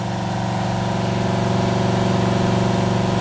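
An engine held at 2800 RPM with steady throttle during a cylinder power balance check, giving a smooth, constant, loud hum with a fine rapid pulse that stays level throughout and has no voices.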